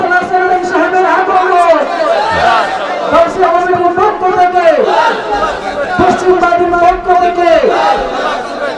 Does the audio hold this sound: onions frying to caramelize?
no